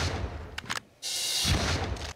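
Blasts from the golden gun in the Total Overdose video game ring out in quick succession, sharp bursts followed by a loud sustained roar of gunfire with a ringing tail.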